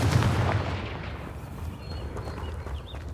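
A Confringo fire spell bursts in Hogwarts Legacy, a loud rumbling blast at the start that slowly settles into a low, dense roar of game ambience with small crackles trailing off.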